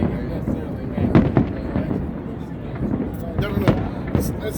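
Fireworks go off at a show in Las Vegas, scattered crackling bursts and pops at moderate distance, heard beneath people talking nearby.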